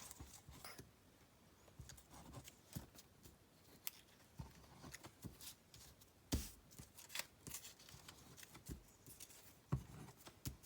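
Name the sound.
scissors trimming paper craft pieces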